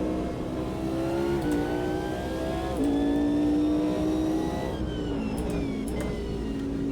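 A GT1 race car engine howls in 6th gear in the Automobilista 2 racing sim, a loud, steady high-revving drone whose pitch rises slowly and dips at brief lifts and shifts.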